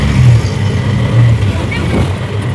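An auto rickshaw pulls away on a busy street, its engine chugging loudly and steadily up close with a low rhythmic throb, and speech is heard over the traffic noise.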